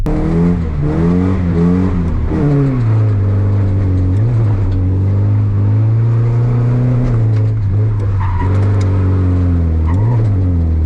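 Nissan 240SX engine pulling hard through the gears, loud and close, pitch climbing then dropping at each shift and climbing again, with no one talking.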